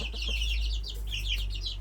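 Chicks cluck and peep while eating apples and feed, soft repeated chirpy clucks close by over a steady low hum, with no talking.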